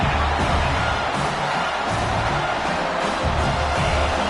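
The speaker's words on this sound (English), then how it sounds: "Here comes his home crowd as the defense tries to get off the field on third down." A home crowd roars steadily at a Howard University college football game as the defense tries to get off the field on third down, a dense, loud wall of cheering with no break.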